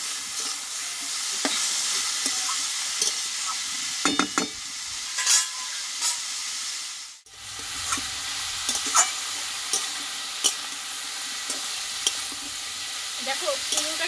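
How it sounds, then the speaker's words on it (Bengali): Ash gourd (chal kumra) sautés in a pan with a close, steady sizzle, broken by scattered clinks and scrapes of a spoon and one brief dip in level midway. "আমি 6 থেকে 7 মিনিট মতো চাল কুমড়োটা ভালোভাবে কষিয়ে নেব"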